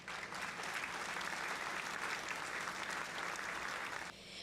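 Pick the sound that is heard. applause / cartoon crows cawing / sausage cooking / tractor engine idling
applause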